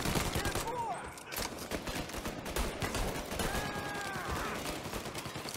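A Tommy gun firing in the video game Mafia Definitive Edition, with rapid bursts of close, loud gunfire crackling continuously over a busy battle soundscape.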